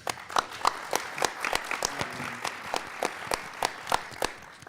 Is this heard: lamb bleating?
no